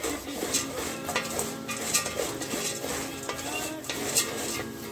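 Cloves and cashews roasting in ghee for a brown aval payasam with sara paruppu, stirred continuously with a spoon scraping the pan over a soft steady sizzle, close and even.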